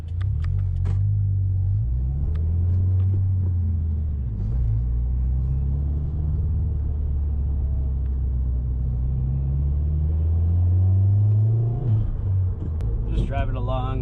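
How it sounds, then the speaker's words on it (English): A 2020 Subaru WRX with an Invidia R400 catback exhaust, heard from inside the car as a steady deep engine drone and low rumble that swells gently with throttle, under someone talking. "you can actually hear the exhaust now"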